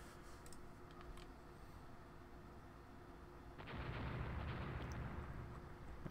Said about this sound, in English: An absolute gauntlet of gunfire.